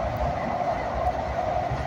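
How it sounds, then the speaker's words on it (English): Train riding on rails, heard from inside a carriage: a steady, fairly loud rumble and hum of wheels on track that continues without pause, with no voices. "I'm on this beautiful train and enjoying it."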